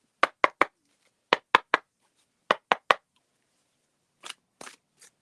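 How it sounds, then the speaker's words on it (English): Sharp bursts of oracle cards riffling, three quick snaps in each of three groups, then two softer, longer shuffles; otherwise quiet. "I am shuffling now for Miss Traders."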